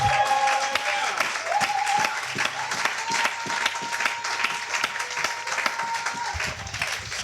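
A church congregation at a Sunday service applauding, rhythmic clapping from many hands, loud and continuous, tapering near the end with a few voices mixed in.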